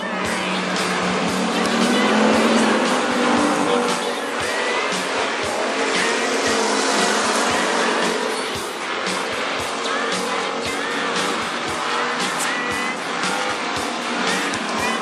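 WISSOTA street stock race cars roar around Princeton Speedway in a loud, sustained engine drone with tire noise, the pack's pitch rising and falling as cars pass; a commentator talks over the racing.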